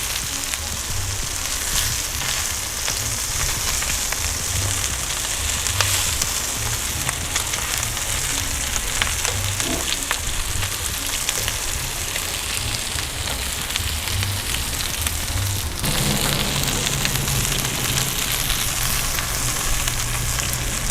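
Ikea meatballs browning in a skillet over a Dyna-Glo charcoal grill, producing a steady rain-like sizzle throughout, close and even, with a slight change in tone near the end as the pieces are moved.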